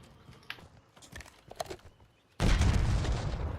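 A flashbang grenade bursts in the Rainbow Six video game, a sudden loud blast that swells into a sustained noisy roar after quieter clicks and scattered game sounds.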